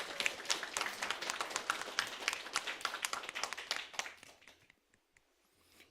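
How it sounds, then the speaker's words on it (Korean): A church congregation applauds with a dense, brisk burst of many hands clapping that fades out after about four seconds into near silence. "하나님께 감사의 박수를 한번 쳐드립시다"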